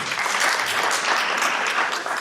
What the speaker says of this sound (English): let's give another round clap for Liz